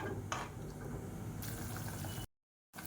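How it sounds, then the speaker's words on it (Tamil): Water bubbles and churns steadily in a cooking pot at a rolling boil for moong dal pulao, close and fairly loud, then cuts briefly to silence near the end. "இப்போ நல்லா கொதிக்க ஆரம்பிச்சிருச்சு."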